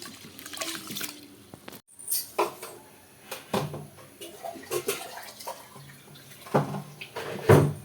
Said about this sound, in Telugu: వాష్ చేసుకొని 1 గ్లాసుకి 5 గ్లాసుల వాటర్ వేసుకుందాం.